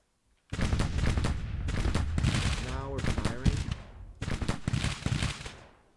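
Gunfire from a Civil War battle in a strategy game, several rolling bursts of musket volleys crackling in waves, loud and close, with short gaps between them.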